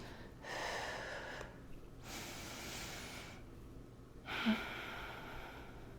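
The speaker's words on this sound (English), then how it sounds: "Exhale, inhale." Slow paced exhales and inhales during a weight press in a seniors' resistance workout, several soft breaths close by in a quiet room.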